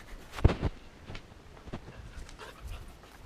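Dogs heard nearby in brief faint bursts of panting and yipping, a few soft sounds spread over a few seconds with no talking.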